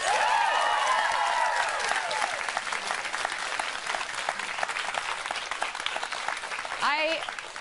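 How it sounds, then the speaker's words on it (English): A large fan audience applauds and cheers enthusiastically for people who appeared in a music video, dense clapping with high excited shrieks and whoops near the start and again near the end. "Can I get a round of applause?"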